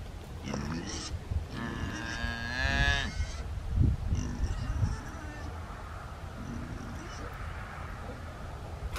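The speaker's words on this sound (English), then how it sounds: "I'm taking my cow for a walk." A bottle-raised calf out on a walk on a homestead moos once in a drawn-out, rising call near the start, followed by quieter rustling and a person talking faintly.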